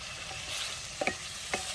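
Tomatoes fry and sizzle in a pan for a dried fish curry, with a steady soft hiss and a few brief scraping stirs near the end, fairly quiet and without talk.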